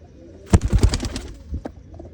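A champion racing pigeon from Tarn Taran gives a close, clear burst of throaty cooing with a few pulsing notes, followed by a short trailing coo.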